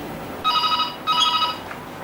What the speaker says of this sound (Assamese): সিফালে চাগৈ ছাৰৰ ফোন আহিলে